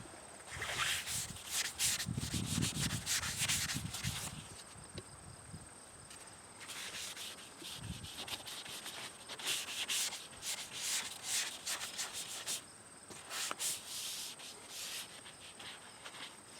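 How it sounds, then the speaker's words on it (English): Wax being rubbed by hand onto the painted body of a Nissan Titan pickup, a close, soft swishing and scrubbing in bursts of strokes with short pauses, no voices. "I'm just going to throw some wax on it."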